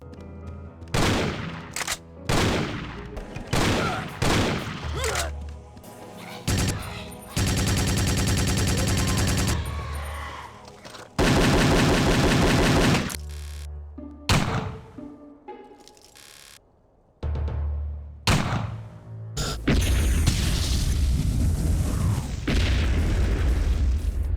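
Loud video game gunfire, with booming shotgun blasts in short bursts, broken by stretches of sustained noisy rattle and near-silent gaps.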